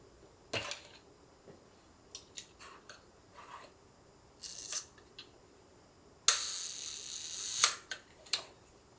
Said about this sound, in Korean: 다이얼식으로 이렇게 해서 셔터 속도를 조정하죠